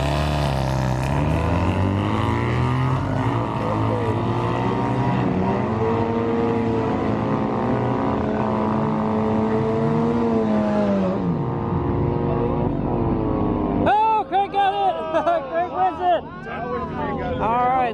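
At a drag strip, a father and son race down the track as engines roar and climb steeply in pitch through hard acceleration, fading into the distance before a burst of warbling, fluctuating noise takes over.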